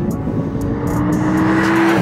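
An Audi R8 Spyder's V10 engine pulls steadily, a loud sustained drone with a rising tone as it accelerates, heard close and alone.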